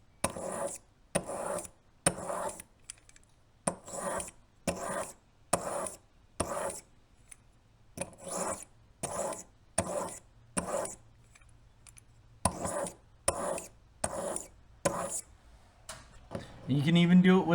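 File strokes sharpening a serrated Magnus broadhead, about eighteen evenly spaced rasping passes in a steady rhythm, close and moderately loud, with no talking.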